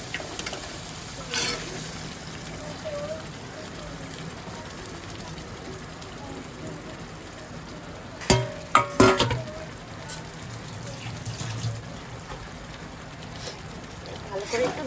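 Chicken pieces for butter chicken sizzle steadily in a hot pan, a broad constant frying crackle with a few louder clatters of stirring partway through; no one speaks.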